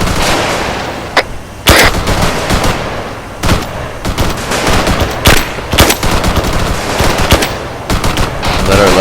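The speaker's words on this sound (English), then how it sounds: "Slow rate of fire. One shot every 12 seconds" Gunfire in a military video game, with loud, close bursts of automatic fire and sharp single shots cracking out in irregular volleys over several seconds.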